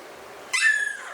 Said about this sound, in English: You're getting heckled by a puppy.